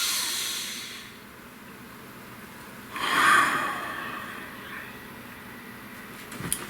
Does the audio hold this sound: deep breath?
yes